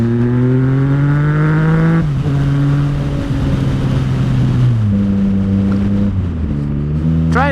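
A motorcycle overtakes at modest speed on the Isle of Man TT course through a village of houses and businesses, its engine droning steadily up close, pitch dropping and shifting as gears change, with no voices.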